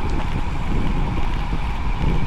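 Steady, rushing wind buffets the microphone during a humid, foggy bicycle ride, a constant roar with no pauses.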